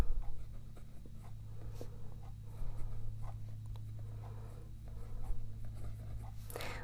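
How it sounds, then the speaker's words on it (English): A Pilot Custom Kaede fountain pen scratches across paper in quiet strokes with short pauses between marks, close and faint, with no voices. "it's writing very well the other way."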